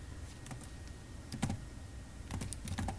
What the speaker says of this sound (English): I'm just going to type in a fictitious name here